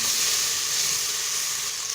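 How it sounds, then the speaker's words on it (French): Small onions sautéing in a pan for a pumpkin and carrot soup, a steady, close, even sizzle that carries on without a break and with no talk over it. "nos petits oignons commencent à dorer un petit peu"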